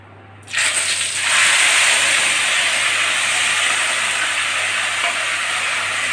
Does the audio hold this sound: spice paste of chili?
yes